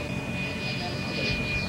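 An electric model jet aircraft passes overhead at an electric fly-in, a steady whooshing whine with a thin high tone, moderately loud and continuous across the short stretch.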